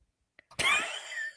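A single harsh cough bursts out after a couple of faint clicks, loud and close, then trails off into a raspy breath.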